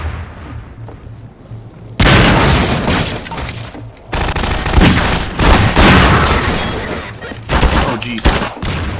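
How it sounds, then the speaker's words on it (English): Loud blasts and bursts of gunfire from a firefight in Half-Life 2 after grenades are thrown, with heavy booming impacts starting near two seconds and continuing almost without pause, and a low hum beneath. "He chucked nades at me."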